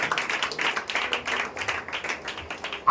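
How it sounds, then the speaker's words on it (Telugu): A church congregation at a Sunday service claps together in a steady run of quick, fairly close claps that continue through the whole stretch. "దావీదుకి ఒకసారి చప్పట్లు కొట్టండి."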